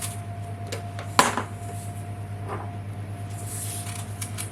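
A knife cuts apples on a board for an apple crumble tart, giving one sharp knock and a softer second tap over a low, steady background hum.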